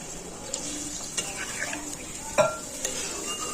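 Water poured into a hot pan of fish curry with pabda fish and taro root, sizzling and bubbling up close with a few sharp metallic clinks of a utensil against the pan, no talking.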